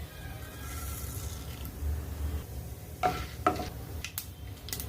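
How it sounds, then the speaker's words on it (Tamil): Chana dal, urad dal and mustard seeds dropped into hot oil, a faint low sizzle with a few brief crackling bursts and spoon scrapes, no talking. "இப்போ எண்ணெயில் கடலைப்பருப்பு சேர்த்துக்கிறேங்க, உளுந்தம்பருப்பு சேர்த்துக்கிறேன், அடுத்து கடுகு"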